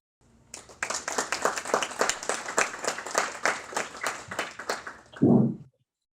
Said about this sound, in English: please give a round of applause to today's speakers, Professor David Shinn and our moderator, Ta